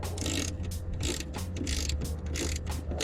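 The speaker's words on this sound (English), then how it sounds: "Okay, so you want an 8mm socket." An 8mm socket wrench ratchets steadily while loosening a hex head bolt on a Corvette C5 headlight assembly, making a continuous run of close, even clicking bursts with no talking.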